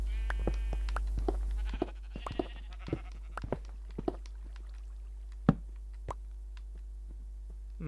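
Sheep in pens in the Minecraft video game bleat several times in scattered, short calls, mixed with soft plopping and knocking game sounds over a quiet background.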